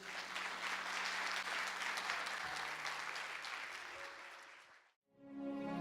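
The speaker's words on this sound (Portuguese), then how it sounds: "Aplauda Jesus" A church congregation applauds at the close of a sermon, sustained steady clapping filling the room for several seconds before cutting off abruptly, followed by a brief return of sound.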